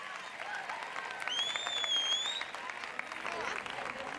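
Audience applause fills a drag queen gala in Telde, a steady wash of clapping and crowd noise throughout, with a whistle-like tone rising briefly in the middle.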